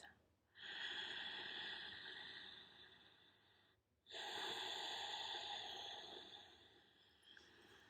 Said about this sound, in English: As you continue to practice that Ujjayi breath